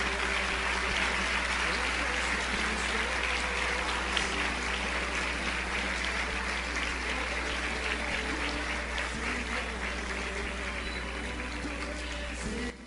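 A church congregation applauds at a Christian sermon event, a dense, steady wash of clapping that holds at even loudness throughout, with voices faintly mixed in beneath.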